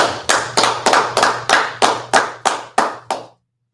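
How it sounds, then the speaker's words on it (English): Hands clap in a slow, regular rhythm, about ten sharp, loud, close claps roughly a third of a second apart over a low steady hum, then stop. "All right, let's clap it up."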